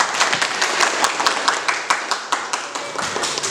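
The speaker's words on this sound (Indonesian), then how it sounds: "Luar biasa tepuk tangan." A school audience claps through a short burst of applause, with brisk, fairly close hand claps at an uneven rhythm.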